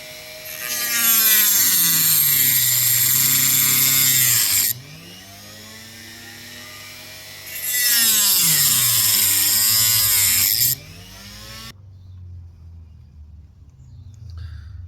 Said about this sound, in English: all I'm going to use is the cut-off disc on my multi-tool and begin to cut that out.